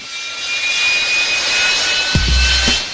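Steady, loud roar of a hovering fighter jet's engine with a high whine running through, and a low rumble swelling near the end, with no voices.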